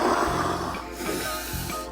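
A voice imitates breathing through a scuba diving regulator, giving low, rasping, snore-like breaths in a slow rhythm, close and fairly loud, with no talking.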